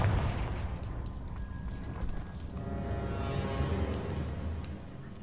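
A Confringo fire spell is cast in Hogwarts Legacy against giant spiders. It makes a dense, rumbling blast with a crackling burst that holds steady and loud across the whole moment. No one speaks.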